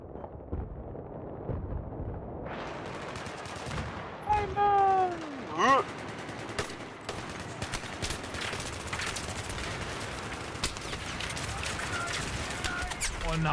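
Gunfire from a Battlefield 3 match, dense bursts and rapid shots running nearly throughout at close range, mixed with explosions and battlefield noise, with a person talking over parts of it.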